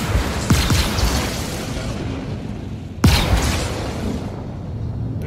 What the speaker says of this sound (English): There's a lot of explosions happening.